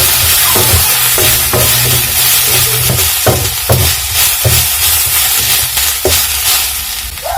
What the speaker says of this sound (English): I'm just frying them both to golden brown like I said before